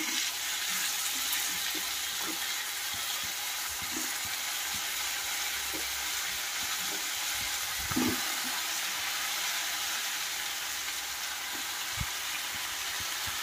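Round plantain slices sizzle and fry in a pan with sautéed onions, a steady broadband crackle throughout with occasional scraping knocks of stirring, close and moderately loud, no voices.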